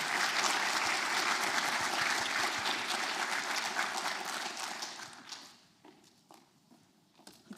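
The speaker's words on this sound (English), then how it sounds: "So a round of applause for this." A conference audience claps loudly in a dense, sustained burst of applause that thins after about five seconds, leaving a few scattered claps at the end.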